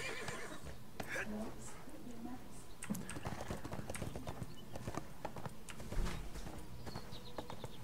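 Hoofbeats clip-clop steadily as a horse mount is summoned in the 2014 online game ArcheAge, with a whinny rising over a busy layer of game sounds and talk throughout.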